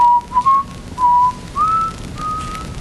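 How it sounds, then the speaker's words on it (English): A person whistles a series of short, clear tonal notes, some rising in pitch, to trigger a Philips key ring, close and alone with brief gaps between phrases. "But just give an ordinary whistle"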